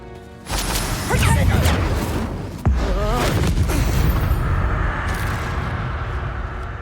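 In the Hogwarts Legacy video game, the Expelliarmus spell is cast as a loud whooshing magical burst with heavy booming impacts and crashing debris. A sharp hit lands midway, followed by a sustained rumbling tail.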